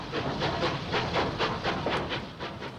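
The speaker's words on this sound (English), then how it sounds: "Bullied Light Pacific in original condition passes through without stopping on a boat train service for Dover." A Bulleid Light Pacific steam locomotive in original condition, hauling a boat train for Dover, runs through without stopping. Steady, rapid exhaust beats pulse under a continuous rushing roar, loud and close throughout.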